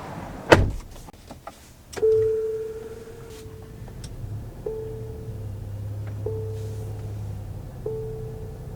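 A car door on a 2023 Nissan Rogue SL clunks and thumps shut nearby, and a sustained door-open chime follows, repeating several times at regular intervals under a low cabin hum. No voices are heard.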